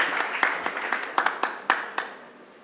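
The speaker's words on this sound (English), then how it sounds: "A big round of applause, ladies and gentlemen" Scattered, sparse clapping at a conference inauguration, a handful of distinct, fairly close claps in an uneven rhythm that taper off within a few seconds.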